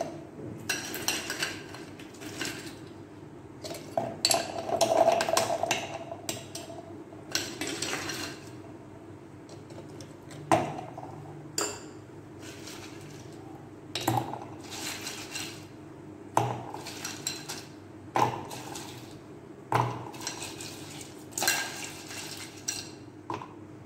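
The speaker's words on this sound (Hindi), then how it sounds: "इसमें हमने आइस डाल दी है" Ice cubes clink and clatter into a glass or jug of strawberry drink seasoned with black salt, a series of sharp knocks and rattles spaced through the stretch, close and moderately loud, with no talking.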